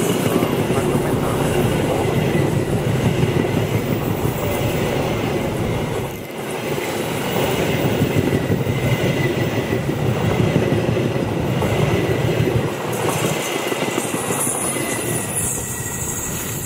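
An Argo Semeru passenger train runs on rails with a loud, continuous rumble and rattle, wheels clacking and squealing faintly throughout, heard from close by.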